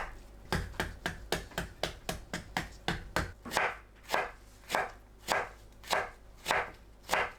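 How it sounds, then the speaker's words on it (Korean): A knife julienning radish on a cutting board, a run of sharp, close chops that start fast and even and then slow into a looser, heavier rhythm, with no talk. "무를 채 썰어 주세요"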